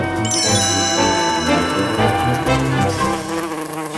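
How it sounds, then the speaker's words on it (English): A bee buzzes in an animated Winnie the Pooh read-along story, a whining drone riding over a busy musical score with chiming notes, continuous and fairly loud throughout. "the only reason for making a buzzing noise that I know of is because you're a bee"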